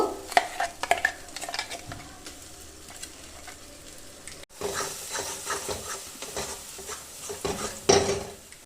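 Ground spice paste fries in hot oil in a wok for a cabbage dish, a steady sizzle with repeated scraping stirs and metallic clinks that pause briefly, then resume busier and louder.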